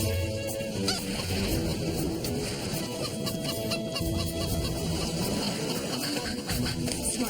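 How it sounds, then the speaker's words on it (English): Chicken squawking and clucking in agitated bursts while being chased and caught outdoors during a survival competition, loud and continuous amid rustling and commotion. "Hey, catch that chicken on this side,"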